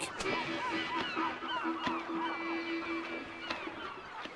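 Arctic gulls call along the Alaska coast, a busy chorus of overlapping honking, squawking cries, some near and some farther off, running steadily throughout.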